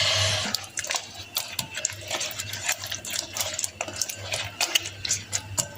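Chicken being mixed with peeled garlic, chilli and spices in a bowl, giving repeated wet scraping and clinking strokes at close range over a low steady hum, with no talking.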